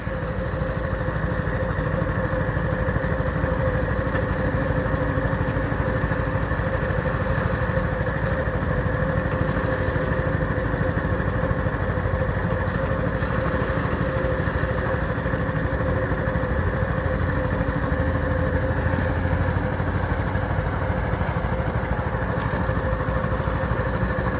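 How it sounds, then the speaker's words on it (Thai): Two engine-driven water pumps, one small and one large, running together while draining a fish pond, making a continuous loud mechanical drone with a steady hum and no break in level. "เครื่องสูบน้ ำสองตัวครับ ตัวเล็กกับตัวใหญ่ ใช้สูบน้ำบ่อสบายๆครับ"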